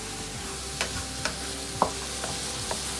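Carrots are stirred in a hot pan while cooking Phad Thai. A few soft scraping strokes are heard over a gentle, continuous sizzle.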